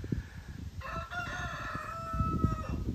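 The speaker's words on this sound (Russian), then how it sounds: "Поют петухи у нас." Roosters crow in a Bulgarian village, one long cock-a-doodle-doo rising clearly for about two seconds over a low rumble of wind or handling noise, with another fainter crow trailing behind.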